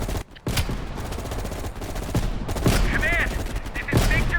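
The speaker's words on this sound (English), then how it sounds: "You readied your sniper rifle to assist." Rifle fire in the Call of Duty Cold War video game, a sniper engagement with loud repeated shots and battle noise, punctuated by sharp cracks and whizzing effects.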